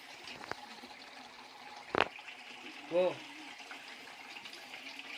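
Water gushes from the bull's-mouth spout at Gunasika temple in Keonjhar, near the Baitarani river, as a steady, moderately quiet rush with a sharp knock and a brief voice partway through.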